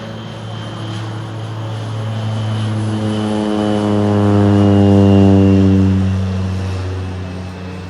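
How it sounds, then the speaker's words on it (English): A crop duster plane banks and turns low over a cattle corral in the morning, its propeller engine droning steadily and swelling louder as it passes overhead, the engine tones sliding downward as it moves away. "We've got a crop duster plane turning around right over the corral this morning."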